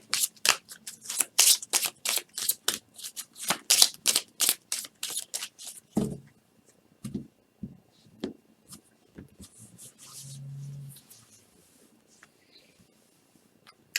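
Tarot cards riffled and shuffled in quick, crisp bursts for about six seconds, followed by sparse soft slides, taps and rustles as single cards are drawn and laid down.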